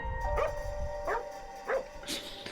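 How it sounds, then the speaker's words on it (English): A dog in the video game Mirador barks four times in quick, evenly spaced yips, clear and close, with no talk over them. "So the dog barks."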